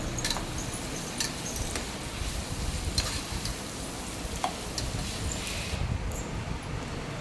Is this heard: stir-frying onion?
yes